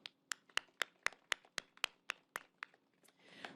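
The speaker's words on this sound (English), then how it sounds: "You really have earned that round of applause." Applause for Metro staff at a D Line tunnelling completion press briefing, a small scattered group clapping in sharp, fairly regular claps that fade into a softer patter at the end.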